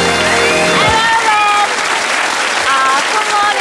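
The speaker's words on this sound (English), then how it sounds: "So we'll just all give him a nice round of applause for Arnold." A television studio audience claps steadily in a dense, loud round of applause as a guest is welcomed, with voices talking over it.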